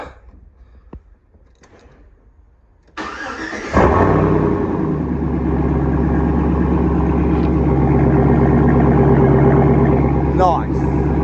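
Chevy Trailblazer with a 5.3 LS V8 starting up, catching at about four seconds and settling into a loud, deep, lumpy rumble that holds steady, with a brief exclamation from a man over it.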